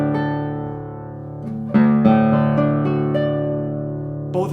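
A Cochlea model acoustic guitar rings out with a few plucked notes and sustained chords, close and clear, with a fresh strum halfway through letting the tones ring alone.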